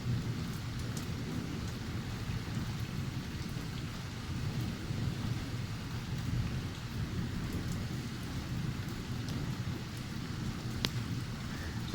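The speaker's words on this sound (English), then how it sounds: "It's like a continual roll of thunder." Heavy rain pours steadily during an evening thunderstorm in Bath, with low, continuous rolling thunder rumbling underneath throughout, a dense outdoor wash of sound with no voices.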